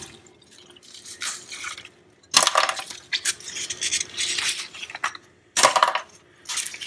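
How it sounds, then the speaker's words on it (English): Plastic mold broken apart by hand to free clear ice cubes, with sharp irregular cracks and snaps in bursts, separated by quieter rustling handling, close up with no talking. "you can then just break the rest off by hand without worrying about breaking the actual ice cubes on the inside"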